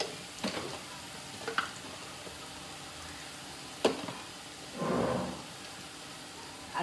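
Prawns tossed with salt, kokum and spices get stirred in a cooking pan, giving a few scattered spoon scrapes and clicks and then one short swishing sizzle, all fairly quiet.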